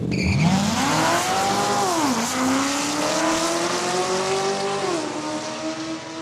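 A 2015 Corvette races down a drag strip at Saskatchewan International Raceway, its engine revving hard with rising whines that dip at each gear change, loud and close, with faint tire noise.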